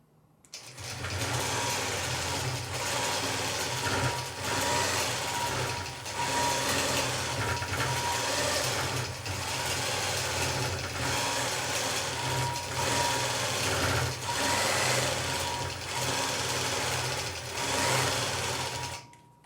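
A quilting machine stitches a continuous curve quilt, a loud, steady, rapid mechanical whirr and clatter that runs almost unbroken with slight pulses in speed, close and alone.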